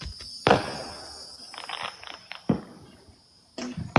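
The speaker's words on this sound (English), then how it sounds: "Can you see the fireworks? They're just blowing them up in the street." Fireworks set off in the street on the Fourth of July crack in sharp, loud bursts heard from indoors, several separate bangs and pops spaced irregularly with quieter crackles between them.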